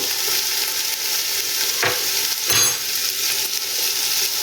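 Chicken samosa filling with chopped coriander fries and gets stirred in a pan, a steady sizzle broken by two sharp scraping strokes of a spoon, close and alone.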